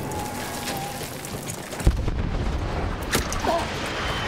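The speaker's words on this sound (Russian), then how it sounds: "Я откуда стреляют, понять не могу." Gunfire and heavy explosions in the World War I shooter Battlefield 1, with a sharp loud blast and further booms and cracks over a constant rain-like wash of battle noise, no speech heard.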